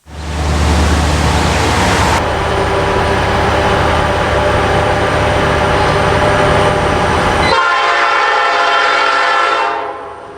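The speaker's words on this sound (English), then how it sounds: "we see the train passing milepost 81" An old high-hood diesel locomotive pulling a scenic train passes loudly and close, with a heavy rumbling roar and rattling cars, then the sound shifts abruptly and fades out.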